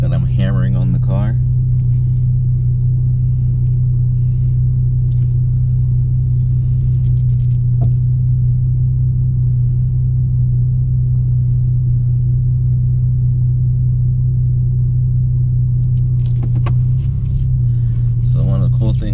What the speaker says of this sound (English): we're gonna go for a quick ride in my 15 Ford Taurus SHO